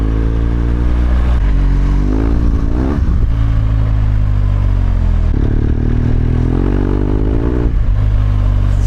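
A BMW R1200GSA adventure motorcycle's boxer engine revs hard during off-road riding, loud and close, with a rising and falling throttle drone, rumbling low tone and surges of acceleration, plus some clatter and scraping.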